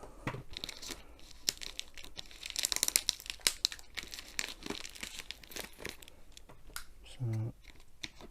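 Packing tape being cut and torn open on a box holding an abstract art diamond painting kit, a run of close crinkling, ripping and snipping bursts of varying loudness with a brief low thump near the end.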